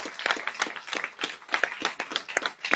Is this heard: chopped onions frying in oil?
no